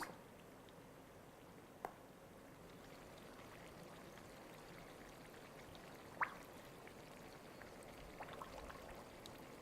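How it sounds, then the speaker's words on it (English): Bubbling mud at a geothermal pool in Rotorua, New Zealand, a steady low wash of soft bubbling and gurgling with a few sharp pops, recorded fairly quietly with no voices. "So that's a sample that I recorded in Rotorua in New Zealand of Bubbling Mud."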